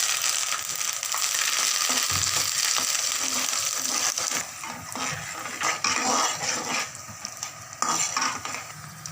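Curry leaves sizzling in hot oil for a poha puliyogre recipe, a loud continuous hiss and crackle with scattered utensil clinks and scrapes, no talk.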